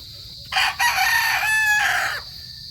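A gray breeder rooster, a Boston line, crows once loudly and close, with a short cluck before the long crow, then falls quiet.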